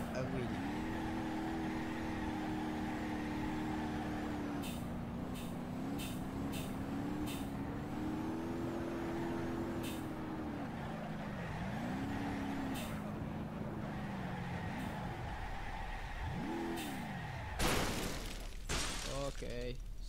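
A car crashing in the BeamNG.drive driving game: a steady engine drone that rises and falls with revving, with a few light ticks, then a brief loud clatter of impact bursts near the end.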